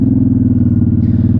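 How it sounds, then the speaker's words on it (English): A 2007 Honda Shadow Spirit VT 750C2 shaft-driven cruiser motorcycle being ridden, its engine giving a loud, steady low pulsing throb close to the microphone, with no talking. "this 2007 Honda Shadow Spirit VT 750C2 shaft driven"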